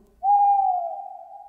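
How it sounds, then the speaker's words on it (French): A great owl gives a single long, steady hoot that holds one clear pitch and slowly fades, loud and close with no other sounds around it. "Le grand hibou s'envola sur ses mots"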